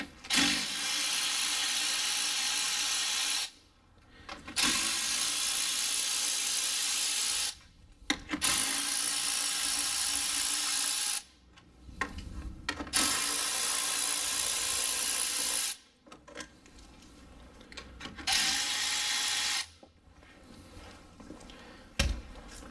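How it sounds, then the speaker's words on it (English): A power ratchet spins radiator fan bolts loose on a car, several long loud whirring runs each a few seconds long, broken by short pauses with clicks and rubbing of the tool. "once I unlock my ratchet here and make sure it's in the correct mode"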